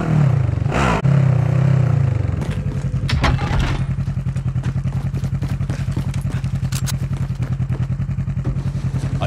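In Call of Duty Warzone, a vehicle engine starts with a loud burst and clatter, then settles into a steady, pulsing rumble as it drives along, close and without talk.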